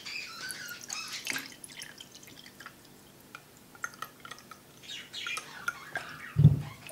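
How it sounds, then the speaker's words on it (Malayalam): Water from soaked dry grapes strained into another glass, with small scattered drips and trickles, one louder splash near the end, and birds chirping faintly in the background. "നമുക്കിത് മറ്റൊരു ഗ്ലാസ്സിലേക്ക് ശരിക്കും അരിച്ചെടുക്കാം."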